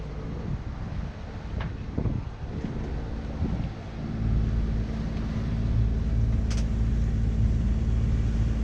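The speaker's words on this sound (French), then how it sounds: "On aide les voiles au moteur, il n'y a pas suffisamment de vent." A sailboat's engine motors along under sail in light wind on a crossing from Macinaggio, a low steady hum that grows louder after some brief knocks and wind noise.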